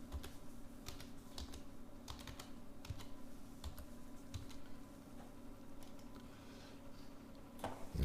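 Fairly quiet keystrokes on a computer keyboard as a password is entered, a run of uneven clicking taps with a soft hum underneath and no talking.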